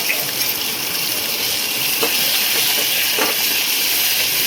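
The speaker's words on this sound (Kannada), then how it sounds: "ಟೊಮೆಟೊ ಹಾಕ್ಕೊಂಡು ಫ್ರೈ ಮಾಡ್ಕೊತಿದ್ದೀನಿ." Tomatoes added to ginger and garlic frying in a pan for a country chicken sambar, a loud, steady hiss of sizzling with a few faint clinks, close and with no voices.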